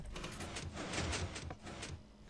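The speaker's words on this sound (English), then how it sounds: "all we should hear is just this piston fire and then this door and nothing else after" A Minecraft piston fires and a garage door slides, a short run of clunky mechanical thumps and clacks at moderate volume with no talking.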